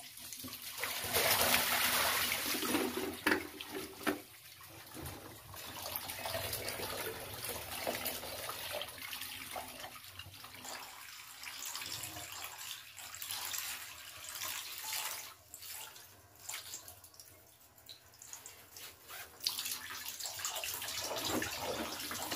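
Water sloshing and splashing in a bucket as raw wool fleece is washed, with continuous close gurgling and rushing that rises and falls in loudness.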